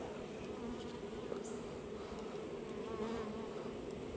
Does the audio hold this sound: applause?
no